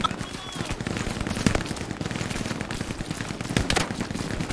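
Gunfire in the World War II shooter Hell Let Loose during an assault on an artillery gun position, a dense continuous rattle of rifle and machine-gun shots with sharper nearby cracks.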